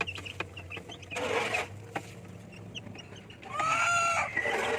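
Native chicks and chickens in a homemade coop, clucking and calling in short bursts close by, with a louder drawn-out squawk near the end over a quiet background.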